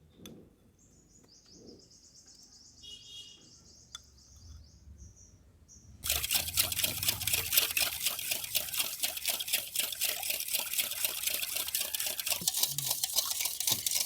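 Yogurt and white oil being beaten hard in a bowl for an eggless zebra cake, a fast, steady scraping whisk rhythm that starts abruptly midway and stays loud and continuous, after a quiet stretch with faint chirps.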